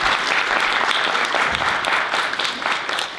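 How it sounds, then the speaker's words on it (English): An audience at a health equity summit applauds its speakers, both in-person and online, with steady, full clapping that carries at even strength throughout. "Let's give them a round of applause."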